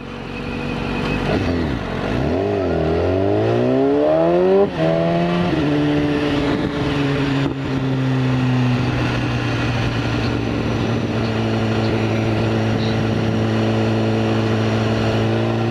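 A BMW S1000RR superbike rides hard, its engine revving up through gears with crisp quick-shifter cuts, then settling into a loud, sustained high-pitched drone close to the rider.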